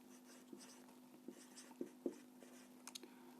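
Pen writing by hand on paper, quiet scratchy strokes with a few sharper taps in an irregular rhythm over a steady low hum.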